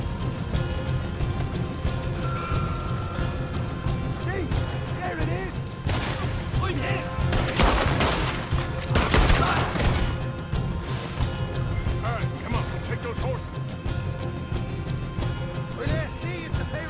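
Gunfire in Red Dead Redemption 2 bursts out in clustered volleys and sharp cracks over a dense, noisy fight, loudest in the middle, with a voice talking through it.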